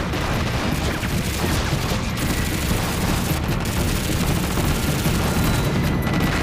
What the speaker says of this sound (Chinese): 停止射击